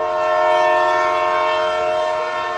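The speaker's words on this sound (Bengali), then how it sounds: "ট্রেন ছাড়ার সময় হয়ে গেল" A train sounds its horn as it pulls away, one loud, sustained blast of chord-like tones that holds steady for the whole moment with no voices.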